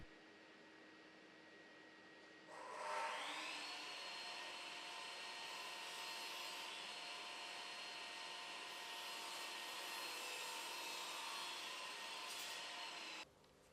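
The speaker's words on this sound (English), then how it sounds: "When using a chop saw to cut skirting board to length, always try to cut into the face side" A chop saw spins up and cuts through a length of timber skirting board, a loud steady whining roar close by that holds for about ten seconds before stopping abruptly, with no talking.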